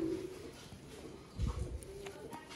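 Pigeons offered as breeder pairs coo softly and intermittently, with a low throaty burst near the middle; the sound stays faint against a quiet room hum.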